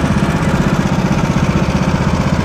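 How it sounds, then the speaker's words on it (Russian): A vehicle engine idles steadily and loudly at close range, a continuous throbbing drone with a regular pulsing rhythm, heard alone after arriving at a fishing spot on the Nelenga river. "Кто бы заглушил двигатель"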